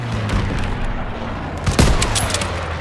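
Battlefield gunfire in Call of Duty: WW2, dense overlapping rifle and machine-gun shots with booming reports in a loud, chaotic firefight, one heavier blast standing out midway.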